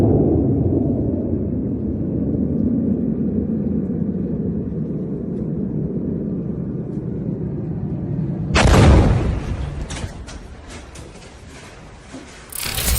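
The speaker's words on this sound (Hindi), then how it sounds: "सऊदी अरब में अमेरिका के एयरबेस पर ईरान की मिसाइल ने गिरकर" Iranian missile strikes on a US airbase in Saudi Arabia: a long deep rumbling roar builds, then a sudden loud blast with crackling debris and further sharp bangs, distant and heavy.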